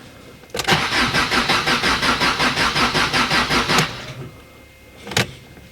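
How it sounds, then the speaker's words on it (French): An Alfa Romeo MiTo diesel engine cranks rhythmically on the key for about three seconds without catching, then stops; a short click-like burst follows. "Je veux voir en particulier que le régime moteur augmente quand je tourne la clé."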